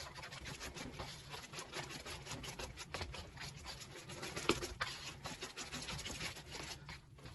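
Jamaican sweet potato pudding batter is stirred together in a bowl. The scraping and rubbing strokes come in quick, uneven succession, close up and fairly quiet, with one sharper knock near the middle.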